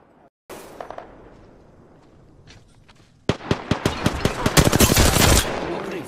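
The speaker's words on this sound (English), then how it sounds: "Opening fire on the enemy." Rapid automatic gunfire from an Apex Legends match, a quieter stretch of game ambience giving way to a loud, dense burst of repeated shots that ends abruptly.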